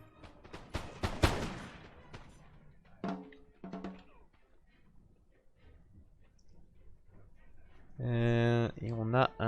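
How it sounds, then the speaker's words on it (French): In the Napoleon: Total War video game, ragged musket volleys crackle in scattered bursts between Prussian fusiliers and Spanish light infantry, with a French-speaking commentator talking over them and other game sounds. "on a un échange de tirs à nouveau entre les fusiliers prussiens et l'infanterie légère espagnole"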